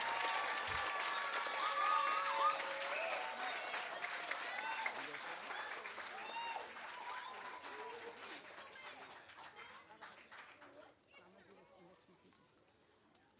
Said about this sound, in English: Let us give our teachers a round of applause.